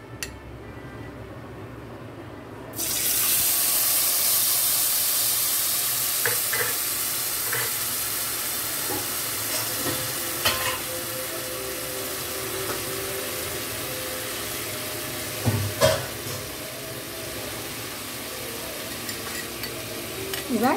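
Sour yogurt paste mixed with turmeric and salt hits hot oil and bursts into a loud, sustained sizzle that hisses on steadily, with occasional clinks and scrapes of a spoon in the pan.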